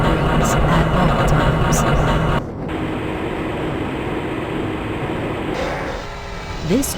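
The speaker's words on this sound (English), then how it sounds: "This train is inbound from the Area 8 topside dormitories to the Central Transit Hub in Area 9" An inbound tram train rolls through the Black Mesa facility in the video game Sven-Coop Blue Shift, a continuous rumbling rattle with a brief drop partway through and a rising squeal near the end. A voice announces over it.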